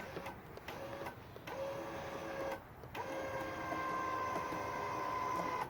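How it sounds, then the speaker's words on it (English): Winch hoisting a framed wall during a DIY house build, a faint mechanical whir with start-stop pulls and pauses, in steady geared bursts; no talking. "And I gotta lock in the winch."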